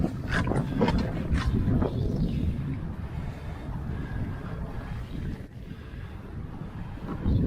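Wind buffets a microphone aboard a sailboat under way, a steady low rumbling roar with faint gusty hiss throughout and no talking.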